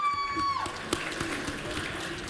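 Audience applause fills an awards ceremony hall, a steady patter of many hands clapping at moderate distance, with a brief tone fading out at the start and faint crowd murmur underneath.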